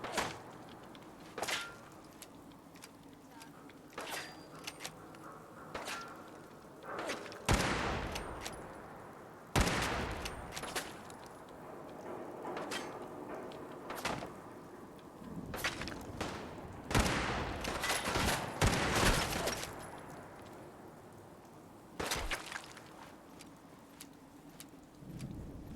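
Hunting rifle gunfire in the video game Fallout 4: sharp, loud shots spread irregularly over the stretch, some single and some in quick clusters, with quieter mechanical clicks and game sounds between them. No talk.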